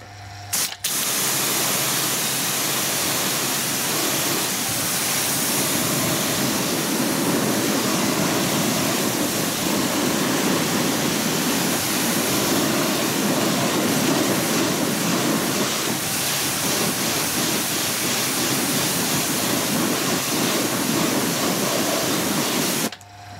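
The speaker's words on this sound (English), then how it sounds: "pre-rinsed with a citrus degreaser dispensed via a pressure sprayer and some good old water" A pressure washer blasts water onto the wheel of a Range Rover Evoque during a wheels-off wash, giving a loud, steady hiss of spray that runs unbroken from start to finish.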